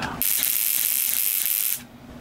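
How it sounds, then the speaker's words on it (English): High-voltage sparks from an ignition coil, driven by a relay and fired through a spark gap, make a harsh continuous buzzing hiss that starts abruptly, holds for about a second and a half, then cuts off. "we get our lovely high voltage gaps from the, this ignition coil channeled through our spark gap"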